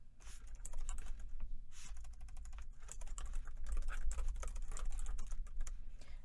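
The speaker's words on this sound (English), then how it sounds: "you type in your username" Rapid clicking of keys on a computer keyboard as a username and password are entered, a dense stream of light taps in quick bursts with brief pauses, close and fairly quiet.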